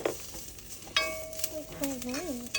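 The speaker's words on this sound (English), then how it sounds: "See? It's sizzling." Food crackles and sizzles in hot coconut oil close by, with soft stirring noises and a faint voice in the background.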